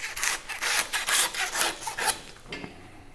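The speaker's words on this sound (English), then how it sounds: "I'm gonna go ahead and saw this off for him the rest of the way." A hand saw rasps back and forth through a beef brisket chuck section at a butcher's block, with steady close strokes that stop near the end.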